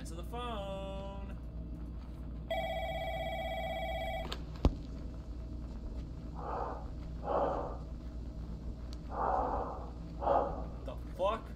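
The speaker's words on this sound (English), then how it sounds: "Answer the phone." A telephone in a horror video game rings in several repeated electronic bursts over a low ambient drone, with breathy sounds between rings.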